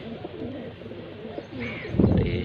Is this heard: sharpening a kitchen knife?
no